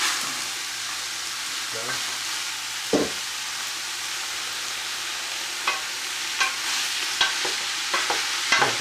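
Ground meat browning in a hot pan for chili sizzles steadily while a utensil stirs and scrapes it, with several sharp clacks against the pan and a brief spoken word.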